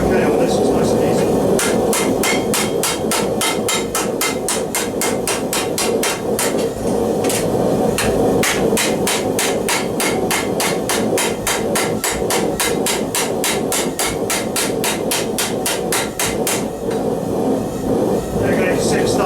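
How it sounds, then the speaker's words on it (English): Sledgehammer blows ring out against a 16 gauge steel armor elbow couter being raised, a steady rapid series of sharp metallic strikes, loud and close, continuing for about sixteen seconds before pausing. "I'm using a sledgehammer, but we're okay on this, it's nice and easy."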